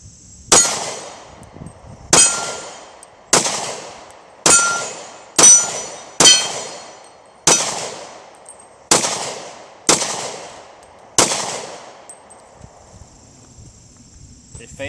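Ten loud, sharp pistol shots from a SIG Sauer P224 fired at a steady pace about one second apart. Each crack rings out and decays quickly, close to the listener, with faint movement noise between the shots.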